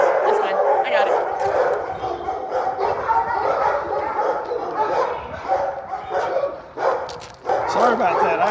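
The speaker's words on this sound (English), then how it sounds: "30 to 50 other dogs in kennels barking their brains out" Roughly thirty to fifty dogs in kennels bark, yip and whimper in a dense, continuous din, with a person speaking over the noise.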